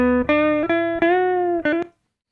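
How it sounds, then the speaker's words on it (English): A gritty, overdriven electric guitar plays a short phrase of sustained notes through a Softube classic rock amp preset in Reason 8, ending abruptly in silence. "a lot more like a classic kind of rock guitar style amplifier"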